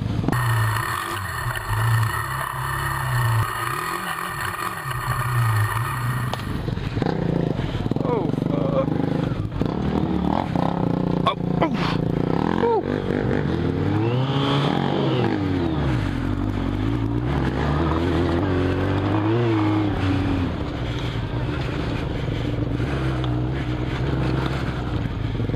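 A Suzuki Bandit motorcycle revs and accelerates off-road during a wheelie attempt, engine pitch rising and falling loudly and close, with clattering and someone shouting over it.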